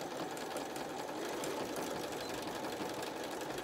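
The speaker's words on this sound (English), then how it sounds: "We're back stitching." A sewing machine runs steadily, back stitching a pleated fabric face mask, its needle whirring in an even, continuous close-up hum with no pauses or voices.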